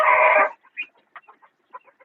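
Chickens at a poultry farm in Shrivardhan, a mix of fighter, desi and Kadaknath-cross birds: a loud, harsh squawk opens, then a scatter of short, quieter clucks at close range with no talk.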